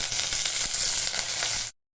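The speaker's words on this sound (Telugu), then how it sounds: "పోపు మంచిగా వేగిపోయిందండి" Tempering spices with curry leaves for dal tadka sizzle loudly in hot oil with a bright, crackling hiss for nearly two seconds, then the sound cuts off abruptly.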